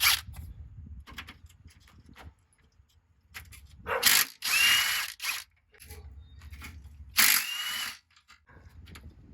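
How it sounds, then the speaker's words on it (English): A ratchet working on the 18 mm nuts and bolts of a brace under a 2007 Chevrolet Suburban, with stretches of quiet clicking broken by two loud, harsh bursts of tool noise, close by and with no talk. "I think I'm gonna start with taking this brace off, and it's 18 millimeter bolts, nuts and bolts on both sides."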